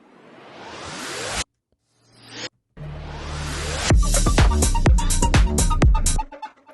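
Two rising noise sweeps, each swelling louder over about a second and cutting off abruptly, followed by a busy beat with drums and synths.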